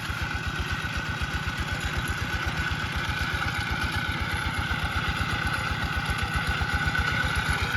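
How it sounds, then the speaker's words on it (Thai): A small single-cylinder engine on a ride-on walking tractor that has been converted into a crop sprayer idles with a steady, fast, even chugging. It sounds close and loud and runs without a break, with no talk over it. "เดินตามนะครับ รถไถเดินตาม"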